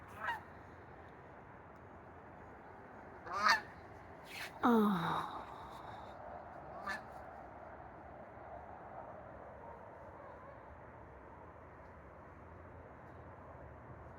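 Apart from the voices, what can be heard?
geese honking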